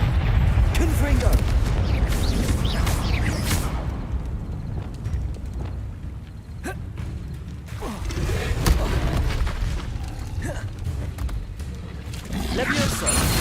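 Spell blasts and explosions from Hogwarts Legacy on hard difficulty, a steady run of loud booming bursts and crackling impacts over a rumbling game soundscape, with a voice speaking in places.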